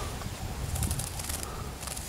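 A small Suir Suir bird caught by hand flaps its wings in brief, rustling bursts, fairly close, over steady outdoor background noise with faint chirps.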